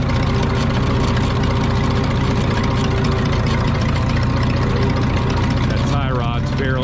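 A Minneapolis Moline G950 tractor engine runs steadily at close range throughout, a loud continuous low rumble that shifts slightly near the end as the tractor is put in gear.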